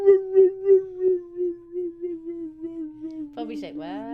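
A puppy howls in a long, wavering, steady tone that rises and falls in repeated pulses, ending in a higher yelping howl, with no other sound around it.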